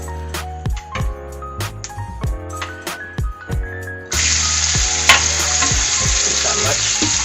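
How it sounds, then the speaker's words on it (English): Pork goes into a pan for a Korean kimchi stir-fry: first a series of sharp metallic clanks and scrapes, then a sudden loud, sustained sizzle of meat hitting hot oil, with stirring underneath and no speech. "Now, let's put the pork inside."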